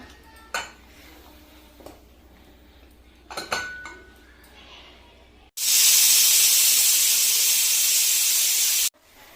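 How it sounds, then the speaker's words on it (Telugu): Dishes clink and a pressure cooker lid rattles a few times, then a loud, sustained hiss of steam rushes out for several seconds and cuts off abruptly as the cooker of mutton keema is opened. "ఇప్పుడు నేను కుక్కర్ ఓపెన్ చేస్తున్నా"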